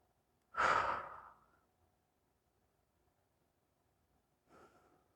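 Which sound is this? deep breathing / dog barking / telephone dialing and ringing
deep breathing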